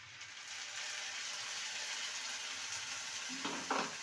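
A ginger, tomato and green chili paste fries in a pan as a constant soft sizzle, broken near the end by a couple of brief scraping stirs.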